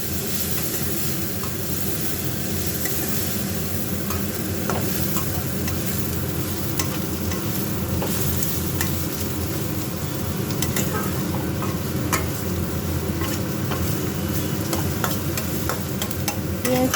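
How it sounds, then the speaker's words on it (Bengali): Onions sizzle steadily in hot oil in a pan, stirred with repeated scraping strokes, a continuous close frying sound with no talking. "পেঁয়াজগুলো দিয়ে দিলাম।"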